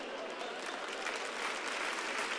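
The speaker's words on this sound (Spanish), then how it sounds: "Todos nos alegramos, todas las aplaudimos." A church congregation bursts into applause during a sermon, a dense, even wash of many hands clapping at close range for a couple of seconds.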